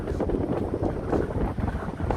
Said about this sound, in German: Es ist halt nur ein bisschen windig.